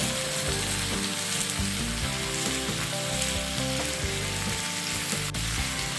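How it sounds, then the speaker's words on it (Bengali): Malabar spinach (pui saag) curry sizzles and fries steadily in a pan, a constant close crackle with occasional soft stirring, no voices. "এটাকে একটু ভেজে নেবার পর"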